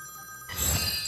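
A telephone rings briefly and faintly: a short tonal ring followed by a brighter, noisier burst.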